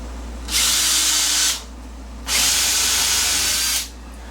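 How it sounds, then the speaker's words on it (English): A power drill countersinks a hole in hard oak, two steady whirring bursts of about a second each, close and loud, with a quiet gap between. "Just want to make sure you Get a good countersink in there so that your screws will sit flat."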